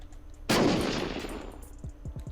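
A single loud, sharp blast from a modded weapon in the survival game Unturned during a raid, with a long decaying boom tail followed by a few faint, quick trailing thumps.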